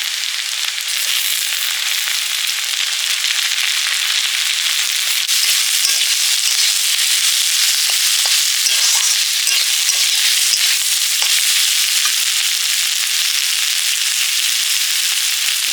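Carrot and capsicum frying for mixed fried rice, a loud, steady sizzle with crackling bursts throughout, close up and with no talking.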